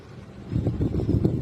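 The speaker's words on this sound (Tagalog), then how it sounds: "Lakas ng hangin, no? Akala mo sasakyan. Hangin pala siya." Strong gusty wind during a sandstorm in Dubai buffets the microphone, a low rushing roar building up after a brief calmer start.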